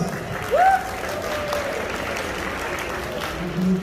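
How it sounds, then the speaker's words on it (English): Audience applause at a Dussehra celebration in the Bay Area, a steady wash of crowd clapping with brief tonal sounds near the start and end. "Big round of applause, guys"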